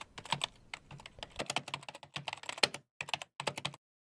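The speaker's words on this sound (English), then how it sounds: "keyboard clicking," Computer keyboard keys clicking in quick irregular bursts of typing, crisp and close, with brief pauses between runs of keystrokes and no talking.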